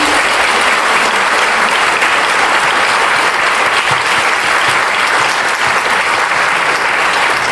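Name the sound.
applause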